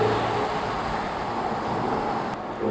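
A Ferrari California T engine runs loud and steady, a continuous broadband roar with a low hum underneath and no pauses.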